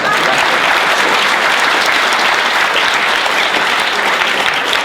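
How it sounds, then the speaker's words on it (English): A lecture audience bursts into loud, dense applause for a cartoonist's book, a continuous close wash of many clapping hands holding steady throughout with no speech over it. "And that needs another round of applause"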